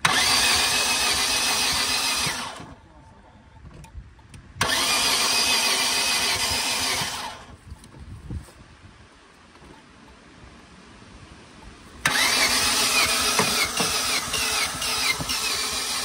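An engine cranks and turns over, then runs with a steady rumbling idle, cutting out and restarting a couple of times.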